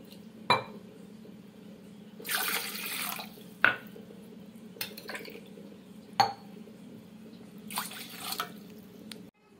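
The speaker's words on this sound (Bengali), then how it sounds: "এই কাপে আমি 3 কাপ জল নিয়ে নিচ্ছি মেপে" Water is poured from a measuring cup into a bowl in three separate rounds, each pour a short splashing gush set between clinks of the cup against the bowl, close and moderately loud, with no voice.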